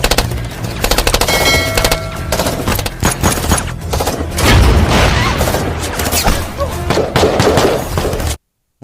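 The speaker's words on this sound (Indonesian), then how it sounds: "Dan lalu mereka pun mundur sambil menembaki tank tersebut." Rapid bursts of gunfire aimed at a tank during a film action scene, dense crackling volleys with heavy booms running loud and continuous for about eight seconds before cutting to silence.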